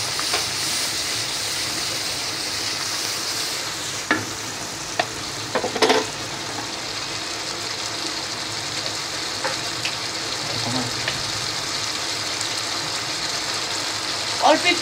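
Ground spices and chilli powder sizzling in hot oil for thin khichuri, with a spatula scraping and clacking against the pan in irregular strokes over a steady close frying hiss.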